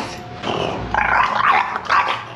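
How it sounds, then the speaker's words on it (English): Dog growling while chewing on a drop cloth, a close, rumbling growl rising in a few throaty bursts over soft background noise. "this dog's not allowing. He keeps chewing on the drop cloth"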